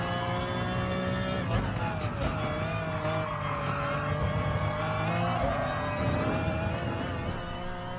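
Race car engines drone and whine continuously in a Gran Turismo Sport online race at Interlagos, with one engine pitch sweeping down then climbing as cars brake and accelerate, steady and mid-level throughout.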